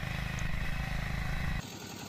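A walk-behind tractor engine chugs loudly and steadily while cutting furrows for potato planting, then abruptly drops to a lower, rougher idle near the end.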